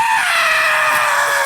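A voice imitates a long, shrill scream, one continuous high-pitched wail held steadily for over a second, loud and close.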